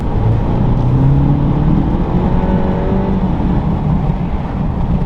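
An 11th-generation Honda Civic with a PRL Stage 1 intake revs up with a rising, throaty drone, holding loud and close before easing off, with a whooshing intake roar over the rumble.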